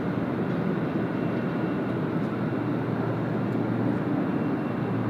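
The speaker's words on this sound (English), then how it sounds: "the Singapore 380 will depart soon as well" A steady, loud roar of a Singapore Airlines Airbus A380 near Sydney Airport continues unbroken throughout, with a low rumble and broad airy noise and no talk.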